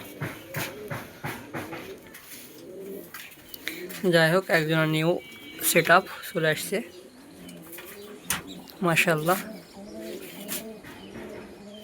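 Pigeons in a loft give several loud, rolling coos in separate bursts near the listener, while someone talks intermittently in between.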